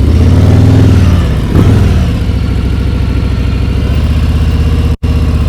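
A motorcycle engine idles low and steady while the bike barely creeps through a slow turn from a stop. The close, loud rumble holds throughout, with one brief dropout near the end.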